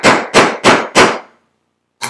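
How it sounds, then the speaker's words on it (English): A hammer strikes a rivet being set on a handmade leather magnetic wallet: four loud, close, evenly spaced blows, then a pause and the start of a fifth hit. "So we have a perfectly set rivet."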